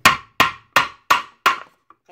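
A hammer strikes a metal bottle cap five times in a steady, even rhythm, each blow a sharp, close, loud metallic crack that decays quickly, followed by a couple of faint small clicks.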